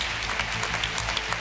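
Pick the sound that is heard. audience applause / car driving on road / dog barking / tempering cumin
audience applause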